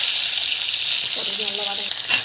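Onions frying in hot oil, a steady bright sizzle hissing throughout, with a few soft stirring clinks and scrapes near the end.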